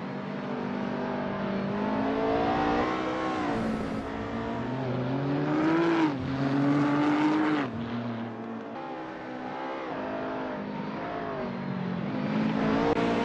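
Nissan GT-R GT3 race car engine in a racing video game, revving hard and shifting through gears with rising and falling pitch, loud and continuous with other cars whirring nearby.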